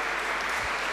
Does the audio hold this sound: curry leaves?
no